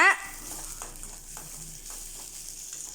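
Onions sizzle and crackle in a hot pan for a banana stem stir-fry while a utensil stirs them, a scraping clatter at the start.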